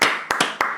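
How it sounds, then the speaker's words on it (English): A few sharp claps land in a quick, uneven rhythm, close and loud, like a small group starting to applaud. "So let's give a round of applause for that."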